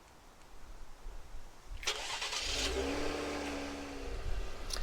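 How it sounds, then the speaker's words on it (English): A 2023 Cadillac CT5 engine cranks over and catches, then settles into a steady low rumble after a quiet moment. "Might as well start the car first."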